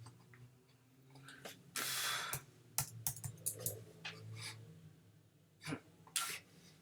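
Someone types on a computer keyboard in short, uneven bursts of soft clicking keystrokes, with a few louder rustles in between and no voices.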